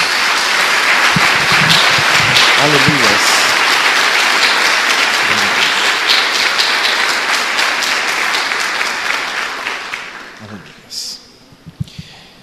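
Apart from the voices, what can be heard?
applause for Jesus in church service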